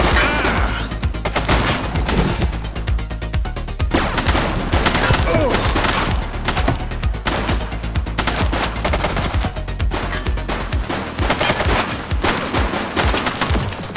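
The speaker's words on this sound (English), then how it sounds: "He's shooting!" Rapid bursts of gunfire from a police shootout in The Precinct video game, dense and loud throughout, mixed with game sound and scattered voices.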